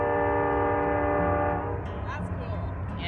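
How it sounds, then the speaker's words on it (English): A freight train passes near a rainy hiking trail at Arden Point and Glenclyffe, its loud sustained horn blaring for about a second and a half before giving way to a steady rolling rumble, with faint voices nearby. "That's the freight train that went for hours."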